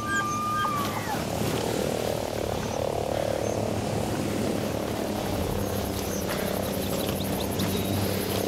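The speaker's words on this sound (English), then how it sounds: "chopper overhead. Be careful." A military helicopter from the tactical shooter Ghost Recon Breakpoint thrums overhead with a steady rotor drone, mixed with loud jungle frog croaks and chirping insects throughout.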